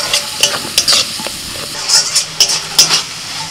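Chopped tomato with Kashmiri chili powder, cumin, coriander and a little turmeric frying in oil over garlic and ginger, a steady close sizzle broken by repeated scraping stirs of the spoon against the pan.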